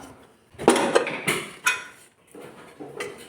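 A pressure cooker holding papaya and sweet potato is opened after cooking, giving a handful of close metallic clanks and scrapes from the lid, separated by brief pauses.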